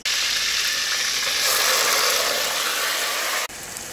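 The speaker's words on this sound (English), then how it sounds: "Now let the onions fry." Onions fry in a pan for quick Nigerian efo riro, giving a steady, bright sizzle that stays loud and even, then drops abruptly near the end.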